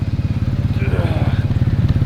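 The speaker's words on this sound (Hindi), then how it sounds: "देवू की बाइक के बाद पहली कोई BMW जहाँ पर पीछे बैठा हूँ मैं" A BMW motorcycle idles close by with a rider seated on the back, its engine a loud, steady rhythmic thumping pulse, while a person talks over it.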